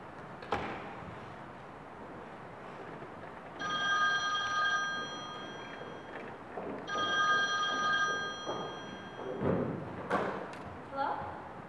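A telephone rings on stage during a high school drama club production of a stage play. There are two distinct trilling rings separated by a pause, with room noise and thumps around them.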